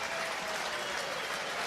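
A stadium crowd of about 15,000 at Franklin's Gardens gives the home rugby team a standing ovation after a win, with dense, sustained applause that stays loud and even throughout.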